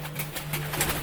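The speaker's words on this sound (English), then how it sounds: "My birds are probably going to be a bit loud in this video, as they usually are." Pet birds in a home calling and cooing in short repeated bursts, moderately close, with a steady low hum running beneath them.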